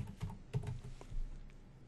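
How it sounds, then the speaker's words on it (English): Keys on a computer keyboard are typed in a short burst of light, irregular clicks, close and fairly quiet, with no talking. "or we can start typing"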